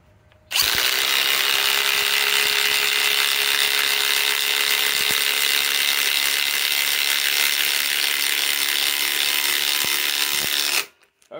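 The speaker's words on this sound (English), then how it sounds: "RIDGID R862312 4 mode 2400 inch pound 8 amp EXP battery. Put it in an existing hole." A RIDGID R862312 four-mode cordless impact driver on an 8 amp EXP battery runs steadily into an existing hole, a loud, continuous high whine lasting about ten seconds before cutting off abruptly.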